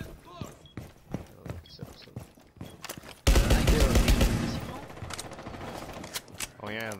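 Rapid bursts of video game gunfire erupt loudly partway through, a dense sustained volley that gradually eases off, with a player talking before and around it.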